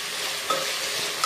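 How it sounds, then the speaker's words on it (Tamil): Onion, green chilli and potato, cooking in a pan for cauliflower curry, are stirred through hot oil in a brief, close, hissing sizzle marked by two quick scrapes. "அடுத்து நம்ம கட் பண்ணி வச்சுருக்க உள்ளி, பச்சை மிளகா, உருளைக்கிழங்கு 3 போட்டு நல்லா கிளறி விடணும்."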